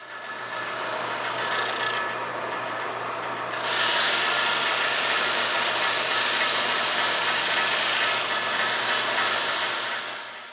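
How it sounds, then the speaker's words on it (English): A disc sander rough-grinds a wooden truss rod cover for a bass guitar: a loud, continuous abrasive roar over a steady motor hum, briefly dipping in pitch partway through and then resuming at full strength. "I just used my disc sander to rough grind that piece of wood to the final shape"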